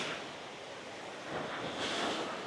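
Ocean surf rolls onto busy Khem Beach on Phu Quoc Island, Vietnam, as a steady wash of breaking waves swelling near the end, mixed with wind noise on the microphone and no voices.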